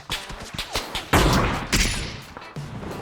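Gunfire in PUBG, a quick run of sharp shots followed by a louder, dense burst of rapid firing that trails off, close and loud with no talking.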